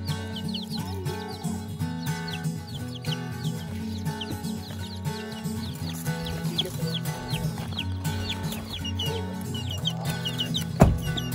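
Young chicks from a Vermont farm cheep and cluck continuously, a dense chorus of many small birds close by, over a steady low hum, with one sharp louder knock near the end.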